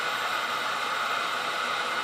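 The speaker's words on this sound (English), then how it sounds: "I like the heat gun because it works the best." A heat gun blows with a steady, even whoosh while shrinking tubing on a fishing rod bobber spring, holding the same level throughout with no other sounds.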